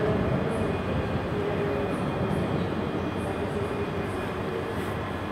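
A ScotRail class 385 electric train rumbles at Glasgow Queen Street station, a steady, loud low roar and hum with faint high whine that continues unbroken and evenly throughout.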